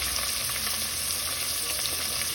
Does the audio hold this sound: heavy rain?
no